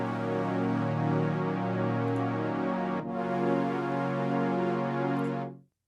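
A house-style synth pad from Serum, its LFO rate driven by an envelope so the modulation starts fast and slows, sustains as rich, dense chords for about five seconds with a brief dip midway before fading out.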